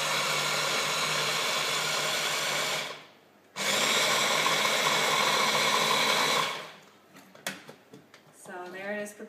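A compact baby-food processor with two speeds runs on butternut squash in two loud, steady whirring bursts split by a short pause, then stops as a person starts talking.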